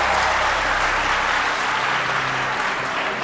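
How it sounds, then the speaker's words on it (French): Sustained, even applause from an audience at a mental-arithmetic contest final, a dense wash of clapping with no voices, holding steady and tapering only slightly. "Est-ce qu'on peut applaudir?"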